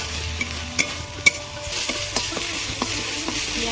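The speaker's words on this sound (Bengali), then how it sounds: "রসুন বাটা দিয়েছি পেঁয়াজের সাথে ওইভাবে ভালো করে কষিয়ে নেবো" Onion and garlic paste frying in a pan for a Bengali mourala fish malai curry, a steady sizzle with repeated sharp scrapes and taps of a spatula stirring, close up, the sizzle swelling louder partway through.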